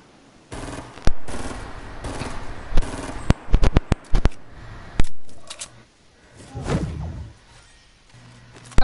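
A drum gun fires in a video game: rapid bursts of loud automatic shots, including a quick clustered volley, broken by short pauses and scattered single cracks, all close and sharp.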